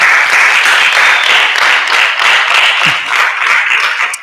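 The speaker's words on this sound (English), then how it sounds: "Let's give them another round of applause" Sustained applause from an audience at a community town hall honoring Senior Airman Roger Fortson, dense and steady clapping throughout with a slight dip near the end.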